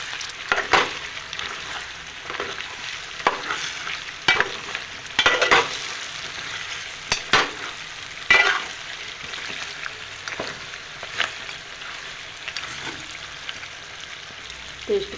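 Mutton stirred and fried with masalas in a pot gives a steady sizzle punctuated by repeated spoon scrapes and knocks against the vessel, close up and without talk.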